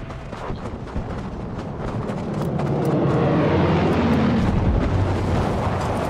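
Spitfire fighter planes flying overhead in the game Battlefield V on the Fjell 652 map, a broad, roaring engine drone that swells louder midway, with distant gunfire and explosions mixed into the battle noise.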